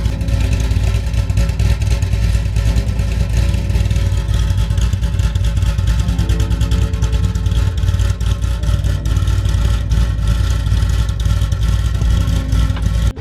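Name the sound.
Corvette Z06 V8 engine with aftermarket cam, idling and revving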